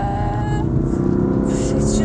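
A BMW M4 engine drones steadily while driving, a low, continuous rumble with a sustained tone that holds evenly throughout.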